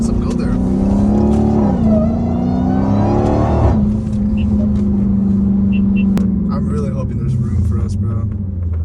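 A Hemi V8 engine at a car meet revs with deep, rising and falling throaty roars over a steady rumbling idle, close by, while people talk around it.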